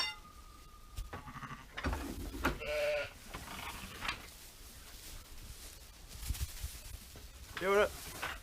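Sheep at lambing time bleat nearby in a barn, a few separate calls rising over soft rustling and handling noises, with a person speaking briefly.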